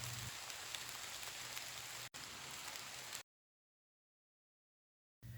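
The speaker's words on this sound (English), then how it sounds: "rain clouds had gathered and it started to pour" Steady heavy rain pouring down, a dense hiss of drops on a surface that cuts off abruptly into silence, then briefly resumes at the end.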